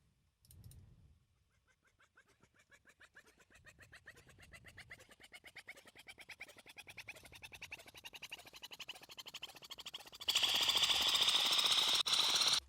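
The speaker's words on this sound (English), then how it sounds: "Without any processing, the riser sounds very ugly." An unprocessed synth riser rises steadily in pitch and loudness as a rapid pulsing buzz, ending in a loud bright burst of noise over its last couple of seconds.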